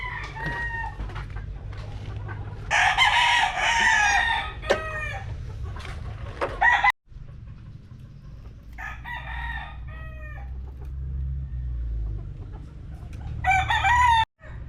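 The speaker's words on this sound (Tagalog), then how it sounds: "Tuwan-tuwa na mga manok." Roosters crow loudly and close, with Silkie hens clucking and squawking in between in a new cage, a busy farmyard chorus of fowl.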